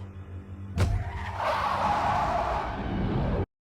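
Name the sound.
car pulling away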